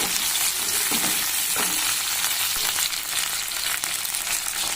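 Green chillies fry in a pan for Rayalaseema-style sambar, giving a loud, dense, continuous sizzle up close with faint stirring scrapes underneath.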